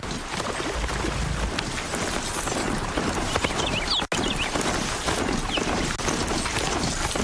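Horse hooves clopping in a steady rhythm during a ride through a jungle in a video game, heard amid a dense game soundscape, continuous and moderately loud with one brief dropout.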